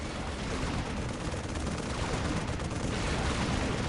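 Turrets fire in the Dawn of War Unification strategy game, a dense continuous barrage of rattling gunfire and muffled blasts at moderate volume.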